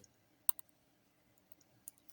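A few sharp, faint computer mouse clicks, two close together near the start and a couple more later, set against quiet room background while drawing a text box in MS Word.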